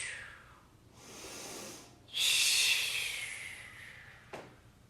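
A person exhales during a Pilates floor exercise with soft, breathy hisses, then one longer, louder forceful breath out, all close and quiet with no talking.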